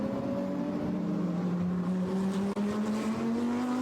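GT3 race cars roar along a circuit in a continuous loud engine drone, pitch steadily climbing as they accelerate, with a brief dip near the end.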